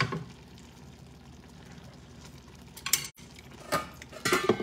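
Metal lid set onto a cooking pot of ginataang langka, a few clattering, scraping clanks near the end after quiet background.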